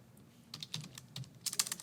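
Computer keyboard typing, alone, in a room: a short run of quiet, irregular keystrokes that speeds into a quick cluster of taps near the end, with no talking.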